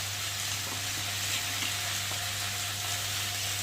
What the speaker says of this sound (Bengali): সবজিটা একটু ভাজা ভাজা হোক।